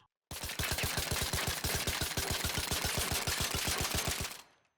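The Kettle weapon in ARC Raiders, fitted with a compensator and green angled grip, fires a long rapid string of evenly spaced, loud shots for about four seconds before cutting off and fading.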